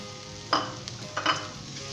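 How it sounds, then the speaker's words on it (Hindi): Fried onions tipped into a pan of Rawalpindi-style chickpea curry and stirred, giving a soft sizzle with two brief scraping bursts of the spoon against the pot, close and alone without talk. "दोस्तों तली हुई प्याज शामिल कर दें इसमें"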